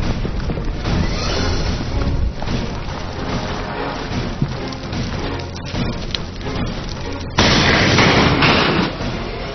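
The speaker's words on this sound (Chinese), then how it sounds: "陈森林操作喷火器，先后进行一次仰角射击和一次俯角射击。" A military flamethrower fires at targets during a competition, once at an upward and once at a downward angle: a loud, sustained roaring blast with rumbling bursts, building to a sharper surge near the end, with no talk.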